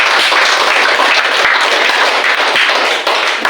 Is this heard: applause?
yes